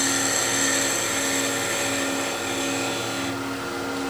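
A planing cut refining a modern, simple wooden chess piece, heard as a steady, loud whirring machine tone with high-pitched harmonics that runs continuously, easing slightly near the end.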